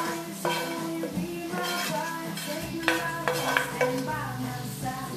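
Mushrooms cooking in a hot iron skillet, a moderate sizzle with frequent stirring, scraping and metallic clatter of a utensil against the pan, close and busy.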